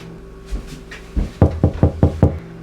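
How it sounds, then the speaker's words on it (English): Knocking on a door in a Macbeth scene: a few faint taps, then a firm run of five evenly spaced knocks, close and alone. "Whence is that knocking?"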